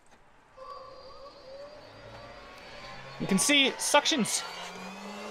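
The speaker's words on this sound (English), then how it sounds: "So we'll turn it on. Here's the button." A 2021 Honda Odyssey's built-in vacuum cleaner whirs with a steady motor whine inside the minivan, continuing while someone talks over it.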